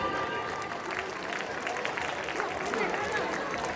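Strong, sustained applause from a school audience greeting its sports stars at a school event, a dense steady wash of clapping with crowd murmur running throughout.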